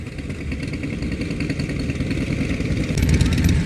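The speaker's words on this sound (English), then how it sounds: "Wow, look at these big bikes." Big motorcycles rumble past in a small-town parade for a county fair opening in Deshler, Nebraska, with steady loud engine noise and clatter that swells toward the end, and people talk over it.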